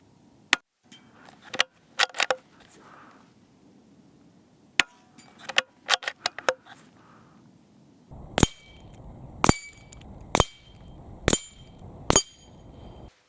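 A CZ 457 stainless .22LR bolt-action rifle is worked by hand, giving a series of crisp metallic clicks and clacks. Sparse snaps come first, then a firmer run of sharp bolt strokes and cartridge pings, close and clear in quiet surroundings.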